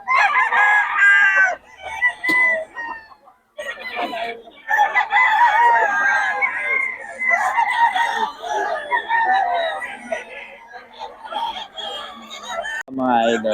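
Roosters crowing at a gamefowl sale in Pangasinan, loud, repeated crows with some clucking, close by and overlapping one another, with someone talking between them.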